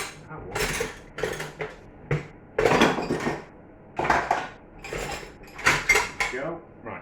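Metal lids clinking and clattering onto glass jars of homemade whole strawberry jam in a kitchen, a series of sharp bright knocks and scrapes in irregular bursts, close and fairly loud, with occasional faint speech.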